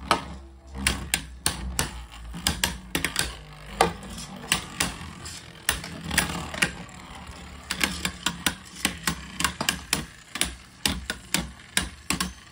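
Beyblade spinning tops clash in a battle stadium, giving a rapid, irregular run of sharp plastic clicks and knocks that ring out repeatedly over several seconds, with no talking.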